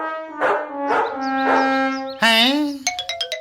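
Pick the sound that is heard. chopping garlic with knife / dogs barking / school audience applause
dogs barking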